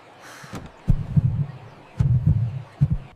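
Heartbeat sound effect in an English story narration, loud, close double thumps in a slow, steady rhythm, heard alone.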